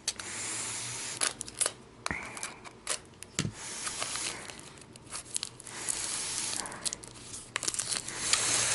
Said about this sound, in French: l'extension que je vais ouvrir tout de suite